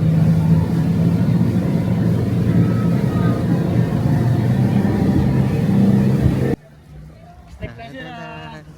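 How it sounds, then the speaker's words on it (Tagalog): A boat engine drones loud and steady during a ride on choppy water off Boracay, with wind and water rush and voices talking underneath, then it drops away to quieter background with voices near the end. "Yan, so andito na kami sa boat."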